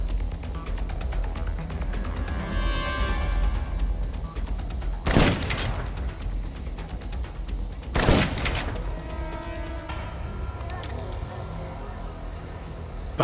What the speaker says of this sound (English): Someone's shooting from the floor above.